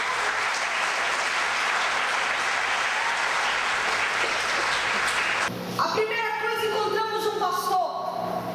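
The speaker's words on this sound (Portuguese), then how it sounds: "Aplauda Jesus." Church congregation applauding during a testimony, steady dense clapping for about five seconds before music and voices take over.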